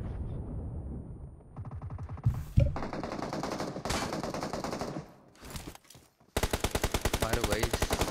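Gunfire in a shooter video game comes in bursts of rapid automatic shots separated by short gaps, ending in a sustained fast volley.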